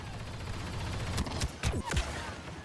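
Blaster gunfire in the video game Star Wars Battlefront II crackles in a short burst of several rapid shots over a steady background din of battle, moderately loud and close.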